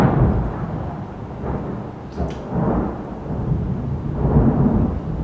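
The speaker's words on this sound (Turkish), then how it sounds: "yağmur da yağacak günü buldu." Heavy rain pours steadily while thunder rumbles low and rolling, with a brief sharper crack about midway; no voices are heard.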